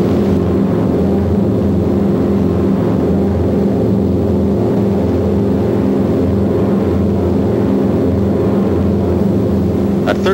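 Several four-engine B-17 Flying Fortress bombers fly in tight formation in wartime footage. Their piston engines give a loud, continuous, droning propeller roar with layered hum, steady throughout with no talking.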